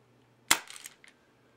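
An airsoft prototype revolver shell fires a three-round burst: one sharp, loud crack followed quickly by a short rattle of smaller pops and a faint trailing click, with nothing else around it.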